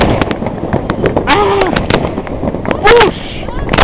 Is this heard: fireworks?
yes